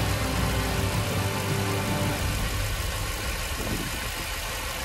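A Land Rover engine idles steadily after its valve cover gaskets were replaced, a continuous near, even mechanical rumble with a slight tonal hum that settles and eases a little toward the end, with no talking.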